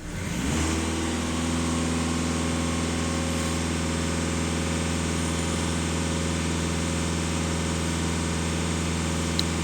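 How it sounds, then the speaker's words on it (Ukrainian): A VW Passat 1.6 TDI diesel engine is held at full throttle after a brief rise, giving a loud, steady, unbroken drone that stays level to the end with no talk. "Даю газ в пол, фіксуємо гектопаскалі"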